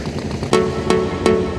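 A steady engine drone of a motorboat at Mayapur, like an outboard motor, with a few sharp thumps at regular intervals.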